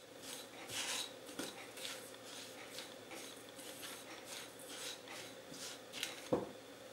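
Mashed potato mixed with sugar and salt in a bowl for onde-onde, with quiet scraping and stirring, a few sharper knocks of utensil on bowl, close and soft.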